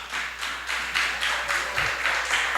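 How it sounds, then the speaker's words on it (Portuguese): A church congregation claps together in steady, even rhythm, a loud, continuous burst of applause for Jesus during a worship service, with no talking over it. "vamos aplaudir o Senhor Jesus"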